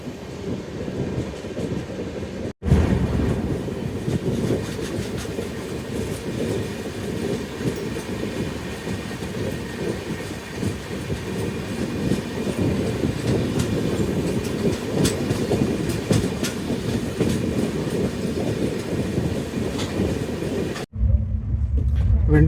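An Ala Hazrat Express passenger train runs on the rails between Bhuj and Ahmedabad, a steady loud rumble with clickety-clack heard from onboard, briefly cut at the start and near the end.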